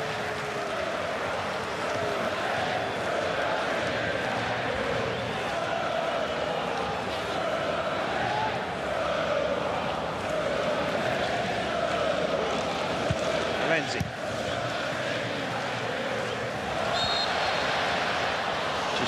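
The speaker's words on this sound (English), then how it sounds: "Just hear the crowd singing their appreciation of Tim Cahill" Large stadium crowd at an Australia versus Kuwait Asian Cup football match sings steadily in appreciation of Tim Cahill, a broad sustained roar of voices throughout, with a commentator's voice over it.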